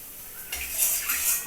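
A metal kadai (wok) is set onto a kitchen stove while cooking egg and papad curry, giving one close clank partway through followed by soft metallic scraping and rattling.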